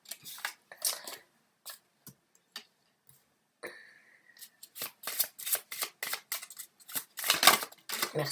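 Tarot cards are shuffled and drawn in a quiet room: crisp, close riffling bursts and single flicks and taps, sparse at first, then denser rapid shuffling toward the end, with no one speaking.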